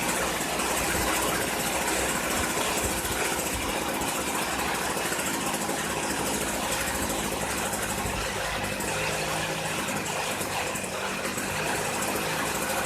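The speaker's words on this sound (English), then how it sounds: "turn the idle screw counterclockwise to reduce the engine speed below the point the trimmer head does not turn" A Stihl FS 56RC gas string trimmer engine idles steadily and loudly throughout, a continuous close-up buzzing drone with no talking.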